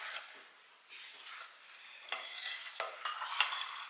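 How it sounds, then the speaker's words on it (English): Spoon stirring thick brownie batter for buckeyes brownies in a bowl, soft repeated scraping and sloshing strokes at close range, fairly quiet, with occasional light clinks against the bowl. "Keep stirring."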